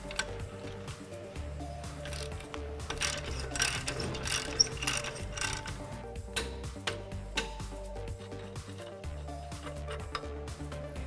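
A ratchet works loose the lower control arm bolts on a 2003-2006 Jeep Wrangler TJ during a lift kit install, a close, rapid run of metallic clicking strokes that repeats with brief pauses.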